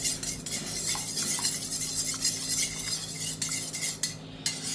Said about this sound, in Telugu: ఇందులో వేసుకొని బాగా కలపండి